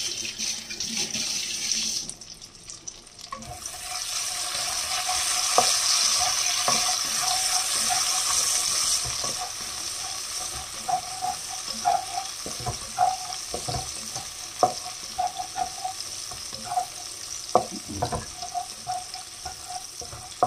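Smoked sausage frying in a pan, a broad sizzling hiss with scattered pops and light clatter, louder and busier toward the end after a brief dip near the start.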